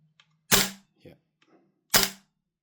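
Two loud, sharp reports from a WellPro AK12 gas blowback airsoft rifle, each with a quick mechanical clack, about a second and a half apart, with faint handling clicks between them and no talking.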